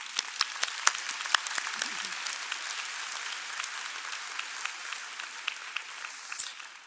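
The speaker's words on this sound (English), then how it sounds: "Let's just give them an applause." Audience applause at a university public health commencement ceremony, a steady, fairly soft wash of many hands clapping that holds for several seconds with a few sharper claps standing out.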